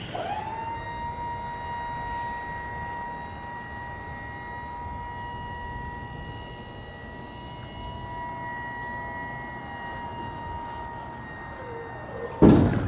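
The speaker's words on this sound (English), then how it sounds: "Lift gate comes up to the top, meets like it should." A tuck-away lift gate on a 2020 Hino 268 box truck with a 26-foot van body rises with a steady, sustained hydraulic whine and hum, then ends in a sharp, louder clunk as the platform reaches the top.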